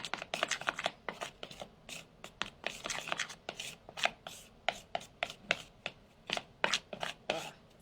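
Grapefruit-scented fluffy fidget putty being mixed by hand, close sticky squishes and slaps in an uneven steady rhythm, each squeeze a short sharp burst with quiet gaps between, no speech.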